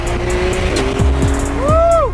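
A stage 2 tuned Volkswagen Golf R drives close by, its engine droning and then rising sharply in pitch as it revs hard, with a tire-squeal quality over steady road roar.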